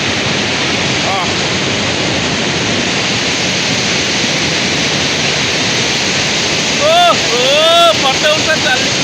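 Putudi Waterfall near Phulbani, a loud continuous rush of falling water dominating throughout, with brief voices and chirpy calls near the end.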